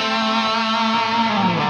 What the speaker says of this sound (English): with the reverb and the delay, it sounds like this.